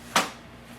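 Front door of an HP DeskJet 4327 inkjet printer pulled open, a single short plasticky click-and-swing close to the mic in an otherwise quiet room.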